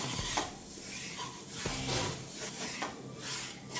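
Milk stirred little by little into roasted cornflour in a pan for creamy tomato soup, a quiet close scraping and swishing of the spoon in repeated strokes with a faint sizzle underneath.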